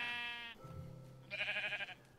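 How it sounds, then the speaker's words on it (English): Sheep in the blocky survival game TerraFirmaCraft let out two short bleats, a higher cry followed by a wavering one, clear and close with no talking. "That's what I want to pick up after the sheep."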